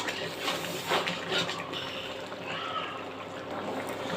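Broth poured into a pan of fish head and gourd curry: a continuous splashing pour and trickle, close and moderately loud, with soft bubbling underneath and no talking.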